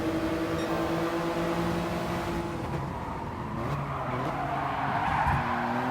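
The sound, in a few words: race cars in the Gran Turismo Sport video game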